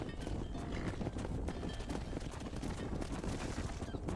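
Horse hooves clip-clop steadily in Red Dead Redemption on PC, buried in a dense, loud wash of game ambience with a possible whinny.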